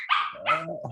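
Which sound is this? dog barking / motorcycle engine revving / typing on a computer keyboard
dog barking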